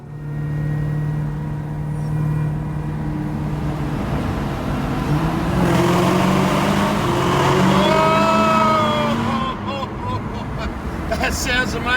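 A Hennessey Exorcist car accelerating hard on an open freeway, its engine a loud, sustained roar with rising tones, heard from inside the cabin while a voice talks throughout.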